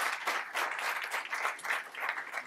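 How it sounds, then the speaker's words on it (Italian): Sustained audience applause during a live tango concert, steady and dense across the whole span, with no voices over it. "Allora, un applauso ancora."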